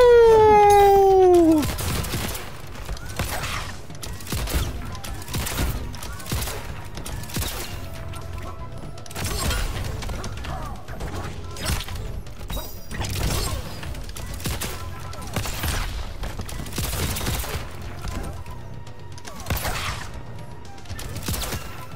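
RoboCop's guns fire in the fighting video game Mortal Kombat 11 as a steady run of sharp, loud shots and impacts, evenly spaced, following a brief descending whine at the start.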